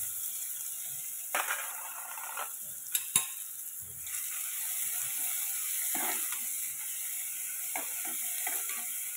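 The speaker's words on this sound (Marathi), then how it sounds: "कांदा लाल होईपर्यंत भाजून घ्यायचा." Chopped onion sautéing with curry leaves in a pan, a faint steady sizzle with a few scraping stirs and clinks, heard close and with no talking.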